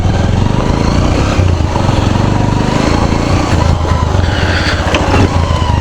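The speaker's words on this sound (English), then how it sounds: "I'm riding the Avenger 160." A Bajaj Avenger 160 BS6 motorcycle runs steadily while ridden, its engine a loud, close, even drone with rushing wind noise and no talking.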